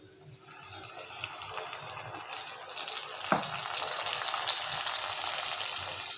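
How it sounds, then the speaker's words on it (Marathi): Cumin and mustard seeds, with curry leaves, spluttering in hot oil for a chutney tempering: a steady, dense crackling sizzle that runs throughout, with one sharper pop partway through and no talk. "नंतर टाकायचं आहे जिरं आणि राई। ते छान तळतळलं की"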